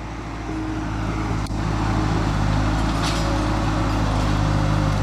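A vehicle spins its wheels while winching two gigantic logs off a 15-foot root ball, its engine roaring loud and close in a sustained, unbroken drone.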